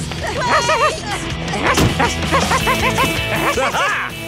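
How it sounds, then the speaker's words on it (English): A cartoon dog barking in an animated episode of Dennis the Menace and Gnasher, a run of loud, yappy barks and yips with a crash partway through, close and busy, with cartoon voices mixed in. "Another wild dog."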